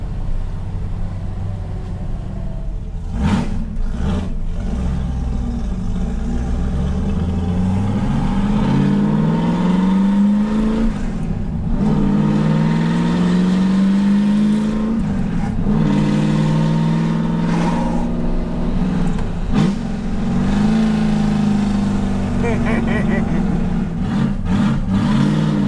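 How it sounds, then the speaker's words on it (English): A 1972 Dodge Charger's 5.9L Magnum V8 rumbles deeply with the exhaust closed, rising in pitch through the gears, revving up and settling repeatedly, loud and close, with occasional knocks. "it sounds really good with the exhaust closed"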